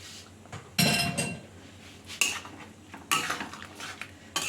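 Fried prawns are stirred into a potato and ridge gourd curry, with a metal spoon clanking and scraping against the pot in four or five distinct close strokes over a quiet background.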